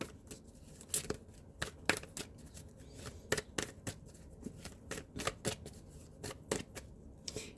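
Tarot cards are shuffled by hand in quick riffling bursts, sharp papery snaps repeating irregularly and close up in a quiet room.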